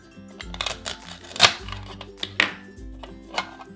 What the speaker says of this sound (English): Let's start by chopping up this corn.